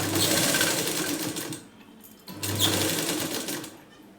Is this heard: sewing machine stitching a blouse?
yes